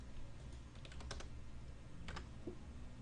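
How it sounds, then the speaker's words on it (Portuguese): A few scattered keystrokes tap on a computer keyboard as a number is entered into a GIMP tool field, quiet and close over a low steady room hum. "ou posso digitar o número exato aqui"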